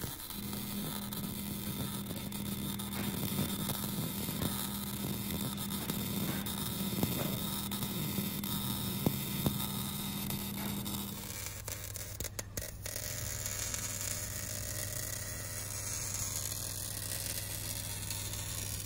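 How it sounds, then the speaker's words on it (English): Steel lock box being welded onto a shipping container outdoors, a steady electric buzzing hum with crackling, shifting in tone partway through, no voices. "So here we're just gonna weld it completely out"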